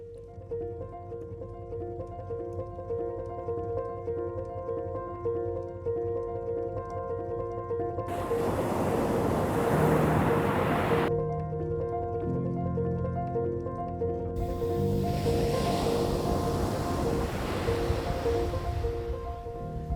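Surf rolling onto the beach at Maitland Bay in Bouddi National Park, soft steady wash swelling into louder broadband crashes of breaking waves, with a steady tonal hum running underneath.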